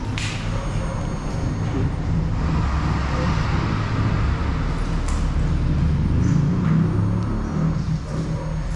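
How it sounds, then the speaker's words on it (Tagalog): Road traffic rumbles steadily outside an abandoned house as vehicles pass, a continuous low roar heard from a distance with a few faint clinks nearby. "sasakyan naman sa labas."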